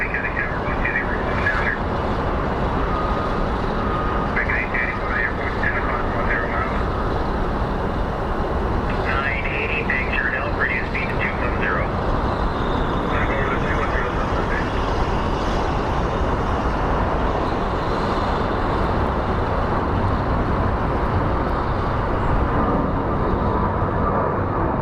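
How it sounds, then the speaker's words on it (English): A plane takes off at Phoenix Sky Harbor International Airport, its steady broad jet roar filling the whole stretch at a constant level, with faint bursts of talk and traffic noise mixed in. "So right now, just enjoy the plane taking off."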